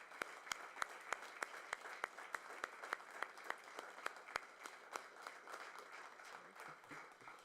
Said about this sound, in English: So round of applause for the 3 people that got awards and the 4 retirees.